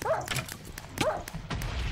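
Dogs in Minecraft, two short sharp barks about a second apart, each followed by softer yips, with game noise behind.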